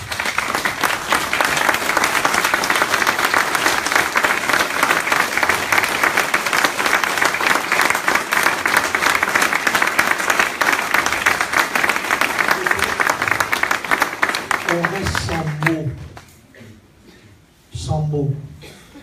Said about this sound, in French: on va se lever pour les chrétiens d'Orient et vous applaudir